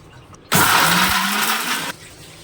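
A kitchen mixer grinder whirs into life and grinds a chutney of jaggery and tamarind for about a second and a half, a loud, harsh whirring burst that cuts off abruptly.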